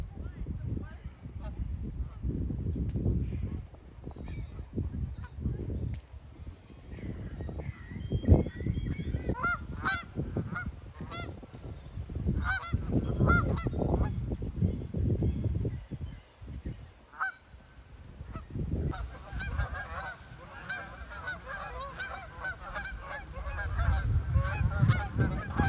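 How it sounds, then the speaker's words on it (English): Geese honking in a flock in autumn, a dense run of repeated honks loud and close, coming in waves with a speaking voice over parts of it. "another sign of fall is geese"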